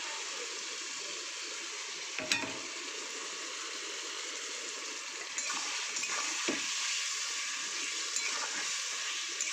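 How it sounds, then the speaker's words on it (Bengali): Spice paste sautéing in a pan after a splash of water, a steady, even sizzle throughout that grows slightly louder partway through, with a couple of brief scraping stirs. "একটু মশলাতে জল দেবো, দিয়ে কষাবো, নাহলে মশলাটা"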